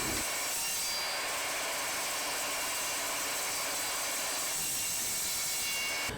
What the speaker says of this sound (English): the next step is to cut the threaded rod to the correct sizes